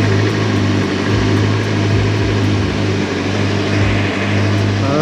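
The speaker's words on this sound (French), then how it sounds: "Ah, le bruit du 4 cylindres." A four-cylinder motorcycle engine runs at idle, a loud, steady, even hum with a strong low drone that holds throughout without pauses.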